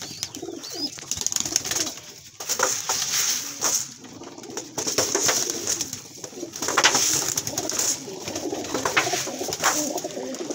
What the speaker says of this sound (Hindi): आपको मैं और दीदार कराता हूँ एक और कबूतर का, बिल्कुल छोटा कबूतर वो भी।